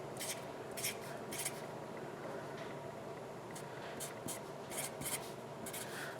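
A pen writing on a blank sheet of paper, giving faint scratchy strokes in short bursts that recur across the whole span, with no talk over them.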